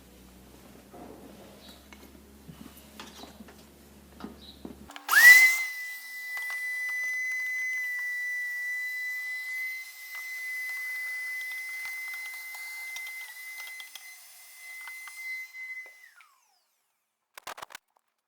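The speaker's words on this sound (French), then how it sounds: "je décide de passer un petit coup d'aspirateur à l'intérieur de la boîte à air" A vacuum cleaner switches on abruptly with a steady high whine and airy hiss, cleaning dirt from the air filter box of a Mitsubishi L200, runs evenly for about ten seconds, then cuts off; faint handling noises before it.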